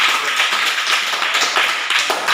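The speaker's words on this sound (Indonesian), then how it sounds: "kita berikan aplaus dulu untuk kelompok 1" A classroom group applauds for the first presenting team, a dense, steady patter of many hands clapping at once for a couple of seconds, fairly loud and close.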